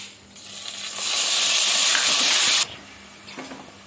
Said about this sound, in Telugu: మిక్సీ చేసుకున్న ఉల్లి ముద్దను వేస్తున్నాను